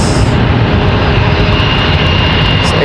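An Airbus A319 jet arriving at Charlotte Douglas airport after a flight from St. Thomas makes a loud, continuous engine roar. The roar is close and steady for a few seconds, with no talking.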